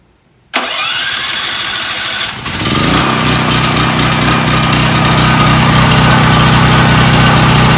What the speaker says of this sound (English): This time we're gonna run it under propane to see if there's a noise variation running propane versus gasoline